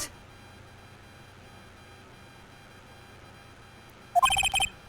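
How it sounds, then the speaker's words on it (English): Video game phone ringtone in Ace Attorney Trials and Tribulations, a short burst of bright electronic chirping tones that cuts in near the end after quiet background music, loud and close. "What kind of ringtone is that?"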